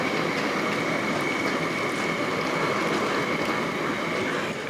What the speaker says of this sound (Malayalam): ഈ കുക്കറിൻ്റെ അകത്തുള്ള ആ വെജിറ്റബിളിൻ്റെ വെള്ളം തന്നെ നമുക്ക് അങ്ങോട്ട് ഒഴിച്ചു കൊടുക്കും